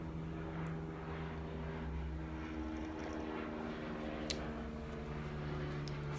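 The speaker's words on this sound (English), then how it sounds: "Friendly neighborhood helicopters." Helicopters fly overhead in a residential neighborhood, a steady low droning rotor and engine hum at moderate distance with faint background noise.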